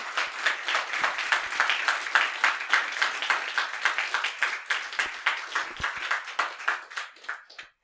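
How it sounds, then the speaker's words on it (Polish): An audience claps after a debate, the applause sharp and fairly rhythmic with hands falling almost in unison, staying strong before thinning out and fading near the end. "Teraz poproszę o brawa."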